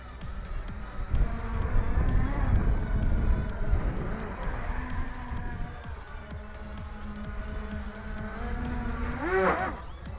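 XK X350 Air Dancer drone motors whining and surging as the throttle changes, loud near buzzing with shifting pitch and a sharp rising sweep near the end, with a person exclaiming over it.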